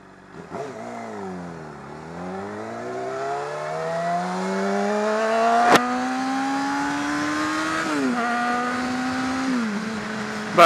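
Motorcycle engine revving while riding, pitch sweeping down then climbing steadily through the gears with a brief shift dip near the end, close and continuous.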